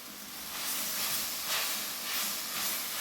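Washed moringa leaves with turmeric sauté in a hot pan, giving a steady, close sizzling hiss that swells and eases gently without pause.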